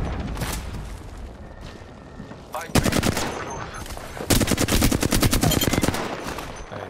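Rapid automatic gunfire from the video game Apex Legends, with two loud sustained bursts of close shots following quieter background gunfire and game noise, a voice speaking faintly underneath.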